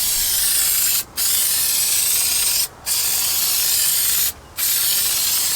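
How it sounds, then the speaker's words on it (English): Aerosol spray hissing in three long, steady, loud bursts with brief gaps, applied during a carpet install in a 1995 Jeep YJ. "Spray it down."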